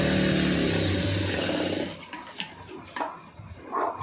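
Sewing machine running steadily while stitching the extra lining of a cross-cut blouse, a dense continuous whirr for about two seconds before it stops and only faint handling noises remain.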